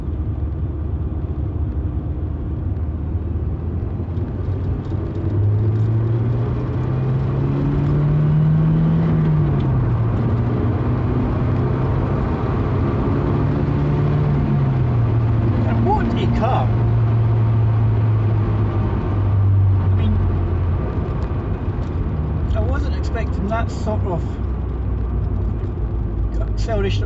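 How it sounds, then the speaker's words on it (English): MGF mid-engined sports car accelerating through a bend, heard from inside with the engine behind the seats; its note rises and falls in pitch as revs build, under steady road rumble, while someone talks throughout. "Got the engine behind you so you can hear it. And I believe that the engine comes alive about just after 3K"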